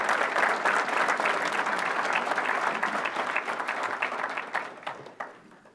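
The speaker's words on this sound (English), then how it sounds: "how about a round of applause for Dawn?" An audience at a police department awards ceremony breaks into warm applause, many hands clapping steadily before the sound thins out and fades to a few scattered claps.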